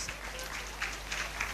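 Faint, steady audience applause at a charity concert, honoring the people creating the sound effects, a soft continuous patter of clapping heard from a distance.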